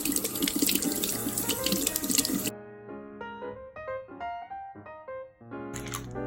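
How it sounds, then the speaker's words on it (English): Hands are washed under a running kitchen tap, a loud, steady rush of water lasting a few seconds before stopping abruptly, followed by soft melodic tones. "You always have to wash your hands."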